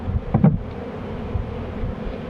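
A low, steady buzzing of honeybees at an open hive hums close by, with a brief louder burst near the start and soft handling noises, no voices.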